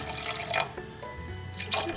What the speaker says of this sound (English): Okay, I'm going to put some water in.